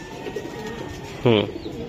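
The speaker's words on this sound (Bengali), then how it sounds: "দুইটা টুর্নামেন্টের কবুতর" A single short pigeon coo rises briefly and clearly over a low steady background hum.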